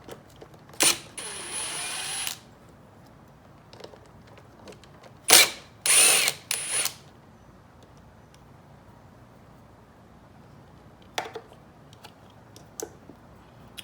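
Short bursts of ratcheting on 8mm bolts of a Yamaha YFZ450 quad, a few brief clicky spurts near 1, 5–7 and 11–12 seconds, close and fairly loud against a quiet workshop background.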